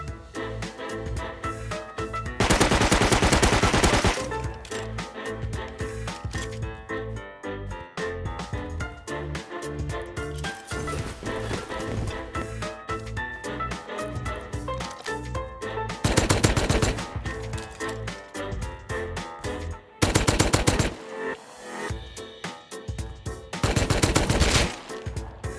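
Gunfire from a large fight in the video game Rust rings out in several loud automatic bursts, separated by stretches of steady game sound and music.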